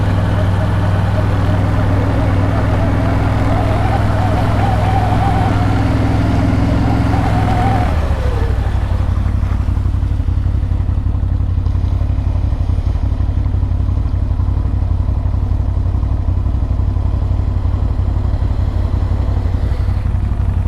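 An ATV engine runs while the rider pushes through shallow water on a trail ride, with a steady, rumbling drone that shifts in character partway through, joined by clatter and churning.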